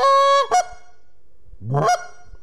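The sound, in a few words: goose flute imitating goose groans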